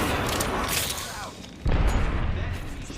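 A frag grenade goes off in the Apex Legends video game, a sudden deep boom landing midway through ongoing gunfire and game noise, with voice lines heard around it.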